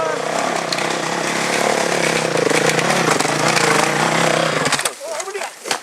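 A loud motorcycle engine of a motocross bike roars and revs steadily nearby as it rides off, then drops away near the end, leaving quieter background sounds.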